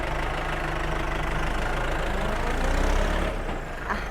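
A New Holland 6610S tractor engine, upgraded to 100 horsepower, rumbles loudly up close, holding a heavy steady drone that rises slightly before easing off near the end.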